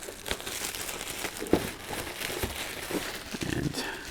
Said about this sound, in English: So, take the plastic off.